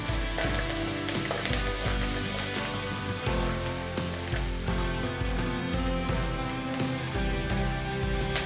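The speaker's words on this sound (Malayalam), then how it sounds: "ഇനി അത് ജസ്റ്റ് ഒന്ന് സോട്ട് ചെയ്തതിന് ശേഷം അതിലേക്ക് ധാരാളം കറിവേപ്പില ആഡ് ചെയ്ത് കൊടുക്കുക" Plenty of curry leaves hit hot oil in a clay pot and set off a loud, dense, crackling sizzle that lasts the whole time, with faint steady tones underneath.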